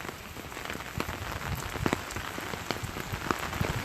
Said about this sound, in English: For me, the rain is pretty soothing.